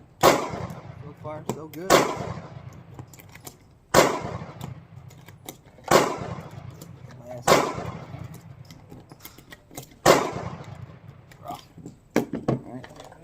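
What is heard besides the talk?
Sig Sauer P365 pistol firing Blazer 115 grain ammunition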